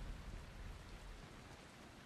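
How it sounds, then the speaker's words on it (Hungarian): Steady rain falls in the zombie survival game Dying Light, a soft even hiss of drops that stays faint and constant throughout with no voices. "És még az eső is elkezdett esni."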